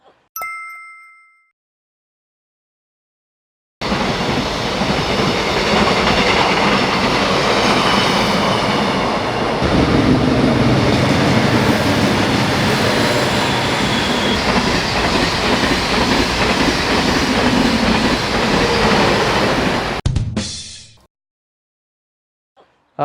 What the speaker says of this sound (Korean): 바로 이 철도 주변에서 지나가는 기차의 소음을 우리가 측정을 했습니다